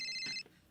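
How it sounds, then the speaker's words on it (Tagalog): A cellphone rings with a short, high electronic tone that sounds for under half a second. It is faint and close, then falls to quiet. "Agriring ti cellphone ko."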